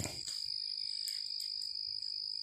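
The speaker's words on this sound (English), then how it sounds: "when the crickets have calmed down" Crickets chirp in the woods at night, a thin, steady high trill with faint pulsing accents, close and continuous over a quiet background.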